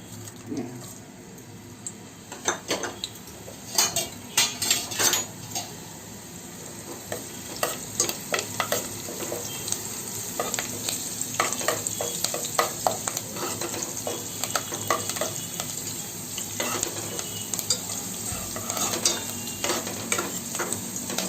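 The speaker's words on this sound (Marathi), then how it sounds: "तेल तापल्यानंतर आपण कढीपत्ता आणि तेजपत्त्याची पानं घेतले, ती टाकणार आहोत" Curry leaves and bay leaves sizzle and spit in hot oil while being stirred in a pan, a steady close frying hiss with scattered crackles and occasional spoon scrapes throughout.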